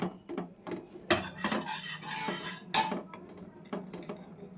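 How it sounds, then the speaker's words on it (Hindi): A spoon scraping and stirring fried masala through cooked khichuri in a pan, irregular metallic scrapes and clinks with a few louder strokes, close and moderate. "अब इसे इसमें अच्छे से मिक्स कर लेंगे।"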